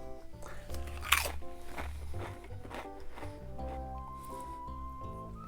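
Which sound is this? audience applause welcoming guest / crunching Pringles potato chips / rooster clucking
crunching Pringles potato chips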